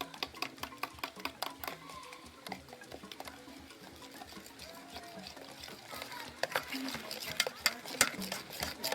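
A flour dough mixture being beaten by hand in Cameroon gives a busy stream of rapid wet slaps and knocks, close and steady throughout, with voices talking over it.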